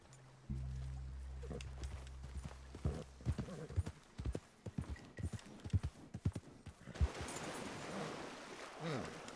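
Horse hooves clip-clopping at a steady walking rhythm in the Western open-world game Red Dead Redemption 2, close and fairly loud, with a low drone at the start and faint water or wind noise later.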